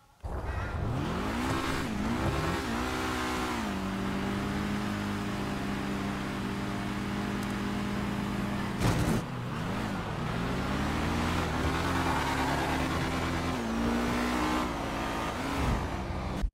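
Drag-race car engine in GTA 5, a GT Classic matched against a truck, revving hard through rising and falling gear sweeps for the whole stretch, loud and close, with a brief sharp shift or bang midway and no talk.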